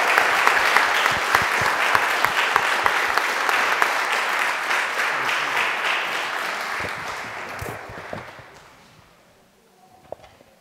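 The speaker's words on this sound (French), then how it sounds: "Je pense qu'on peut les applaudir pour les encourager," A church congregation applauds at a baptism service with full, steady clapping for about eight seconds that then fades away, leaving a few soft taps and footsteps.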